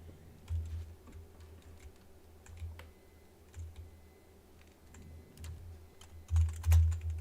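Keys clatter on a computer keyboard in steady bursts of typing, close and clear, with a low hum underneath and no talk, during a practice session for a racing game.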